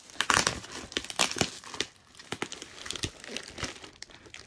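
Packing tape being torn and crinkled while opening a package holding a Vegas Golden Knights Reverse Retro jersey, close irregular bursts of ripping and crumpling plastic with short pauses between pulls.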